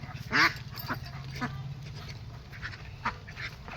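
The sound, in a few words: ducks quacking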